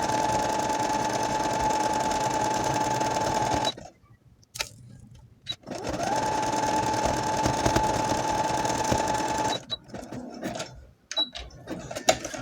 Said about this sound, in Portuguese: segura e prossegue costurando